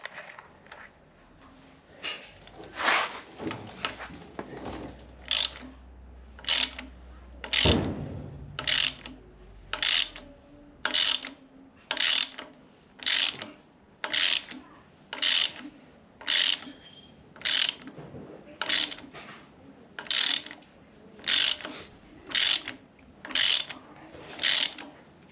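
Ratchet wrench clicking steadily while turning a long threaded bolt to draw a harmonic balancer onto a Ford 4.0L inline-six crank, a regular rhythm of close, crisp ratcheting strokes with brief pauses, no talking.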